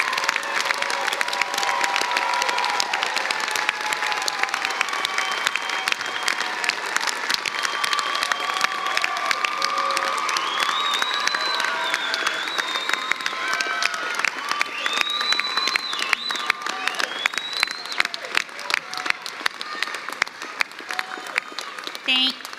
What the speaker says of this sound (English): please rise so that we can applaud you and your significant contributions to our graduates.